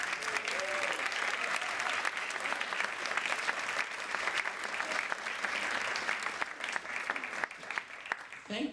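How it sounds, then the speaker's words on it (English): Sustained audience applause fills a lecture hall after a Shakespeare endowment director is introduced, a dense, steady clatter of many hands lasting throughout at even loudness with no voices. "Thank you so much for spontaneously applauding him."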